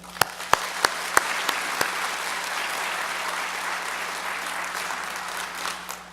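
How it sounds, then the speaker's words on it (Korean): A church congregation applauds, opening with a few sharp, distinct claps that swell into steady, moderately loud applause from many hands over a low hum. "우리 한 번 더 박수할까요?"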